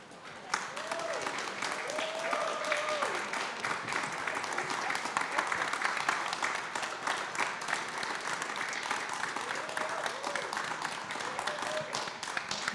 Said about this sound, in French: Je crois qu'il ne nous reste plus qu'à applaudir.